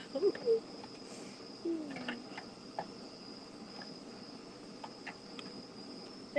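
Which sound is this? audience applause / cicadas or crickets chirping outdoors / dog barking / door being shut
cicadas or crickets chirping outdoors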